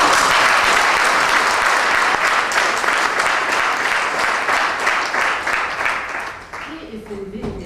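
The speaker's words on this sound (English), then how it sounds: "Give him a round of applause." A crowd applauds loudly and steadily for a university chancellor at a ceremony marking his ten years in office, the clapping fading in the final second as a voice begins.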